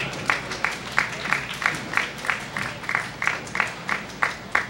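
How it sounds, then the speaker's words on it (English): Spectators at a bowling competition's final round give the bowlers a round of applause, a steady, moderately distant patter of clapping with a regular pulse of louder claps running throughout. "Spectators, let's send these players off with a round of applause."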